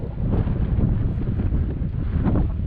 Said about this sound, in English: the wind's still whipping